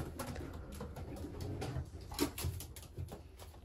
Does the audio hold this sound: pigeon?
yes